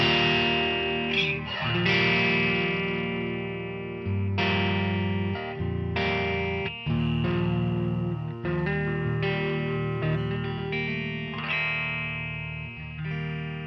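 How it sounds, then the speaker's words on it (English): A Starcaster electric guitar on its neck pickup played through effects with distortion, chorus and echo: warm, thick chords ring out alone, loud and close, in a loose strummed rhythm with brief stops between phrases. "Just hear how fat and warm that neck pickup sounds."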